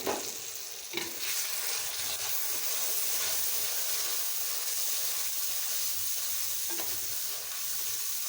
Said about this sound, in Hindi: अब हम इसमें टमाटर और अदरक का पेस्ट शामिल कर लेंगे।